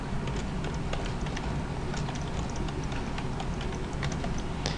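Steady, rapid clicking of keys on a computer keyboard as a label is typed in, close and continuous over a constant background hiss.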